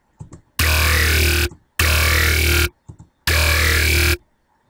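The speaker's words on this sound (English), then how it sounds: "I'm gonna show you guys how to make a liquid kind of mouthy growl." Three long, loud synthesized robot-mouth growls made in Massive, with a wet, mouth-like wobbling filter, each separated by short gaps holding small clicky blips.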